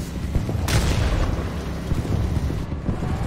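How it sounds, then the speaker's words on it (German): Booming artillery explosions in War Thunder, a World War II combat game, with a sharp blast near the start and a continuous low rumble of impacts and battlefield noise throughout. "an der Stelle bin ich von der Artillerie gekillt worden"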